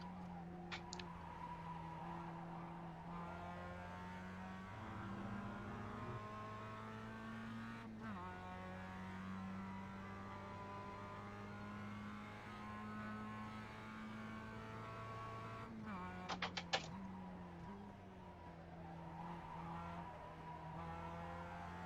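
A Mazda MX5 race car in the iRacing simulator drones through steady gear pulls, its engine tone rising and dropping with shifts, with brief tire squeals; the sound is continuous and close.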